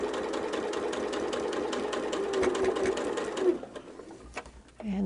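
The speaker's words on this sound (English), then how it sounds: "I'm going to back it up a little bit so we're over sewing where we already sewed" A sewing machine back stitching over quilt fabric, a fast steady mechanical whir running at close range for several seconds before it slows and stops, with no talking.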